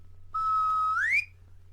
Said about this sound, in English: He blew the whistle